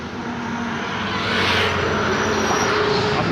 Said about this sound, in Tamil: கரெக்டாக அந்த பாலத்திலேருந்து அப்படியே அந்த ஃப்ளைட்டு போகிறது பாருங்களேன்